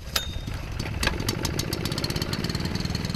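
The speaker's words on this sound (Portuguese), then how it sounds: "O motor que ele prepara é para levar água do rio até a casa dele nessa mangueira." A small motor pump on a riverbank, set up to pump river water through a hose to a house, runs with a steady, rough mid-pitched engine chugging and rattling throughout.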